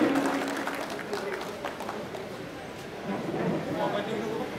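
An audience claps to welcome a deputy chief minister at the launch of a cooperative sugar factory's crushing season. The applause is a steady, fairly distant wash of clapping that lasts throughout.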